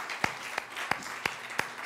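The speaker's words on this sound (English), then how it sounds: "Let's give the Lord a big clap." A church congregation claps in unison during a sermon, five evenly spaced, fairly faint claps over a soft background murmur.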